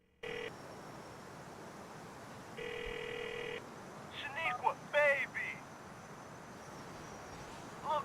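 Phone dialing in Grand Theft Auto IV, with steady in-game tones and short beeps, then a burst of rapid chirpy electronic blips, all over a constant low background hum.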